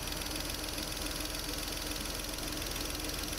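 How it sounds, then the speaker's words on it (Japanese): A Renault Twingo's small engine runs at a steady, even pace, giving a continuous mechanical hum with light ticking and knocking, heard up close and fairly quiet, with no one speaking. "小さいですけどキビキビとした走りを支える、よく回るいいエンジンだと思います。"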